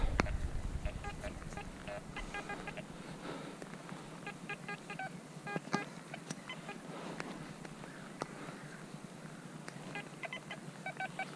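A metal detector sweeping a beach gives repeated short electronic beeps in irregular clusters, moderately loud and close, over a constant background of wind and rustling.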